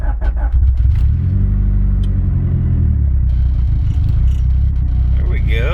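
A turbocharged Honda Integra engine that has sat unused for two years cranks and catches, then idles and revs in a loud, deep rumble close by, with a person talking over it.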